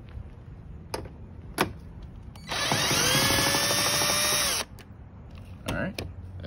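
A power tool with a 10 socket spins off a front bumper bolt on a Chevy Cruze, a steady high whir lasting about two seconds between softer clicks and handling noises, close to the microphone.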